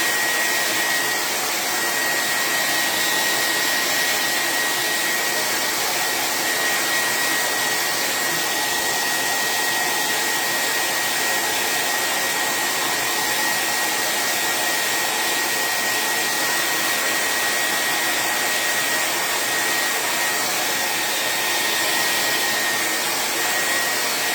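A hair dryer blows steadily on a painted throw pillow for the whole stretch, a loud, even, close whoosh with a faint high whine and no talking or breaks.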